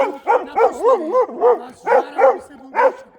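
A dog barks repeatedly in close, loud bursts of about seven rhythmic barks, some with a whining, yelping edge, during an outdoor confrontation.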